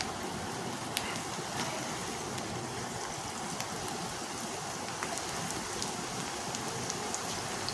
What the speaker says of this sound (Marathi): कढईमध्ये मी तेल गरम करायला ठेवलं होतं आणि त्यामध्ये मी कांदा भजी हे बघा अशा पद्धतीने मी सोडून घेतली आहेत